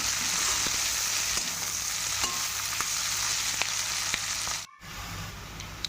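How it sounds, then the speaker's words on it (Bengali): Onions fry with dried red chilli and bay leaf for a spicy egg and potato curry, giving a dense, even hiss of sizzling oil that holds steady at close range, cut by a brief dropout near the end, with no voices. "শুকনো লঙ্কা আর তেজপাতা দিয়ে সুন্দরভাবে পেঁয়াজগুলোকে লাল লাল করে ভেজে নেব"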